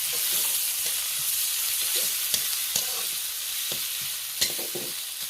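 Garlic and ginger paste frying in a pan, with a steady sizzle and spatula strokes scraping at irregular intervals, several sharper clacks standing out, no talking.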